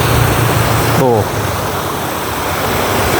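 Water gushes through a box culvert nearly 2 meters wide at a fishing pond, pouring like a waterfall in a loud, steady broadband roar, with a brief voice-like sound near the start.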